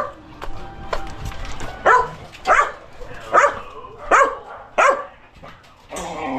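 A dog barks about six times in a steady rhythm, loud and fairly near, over low background noise.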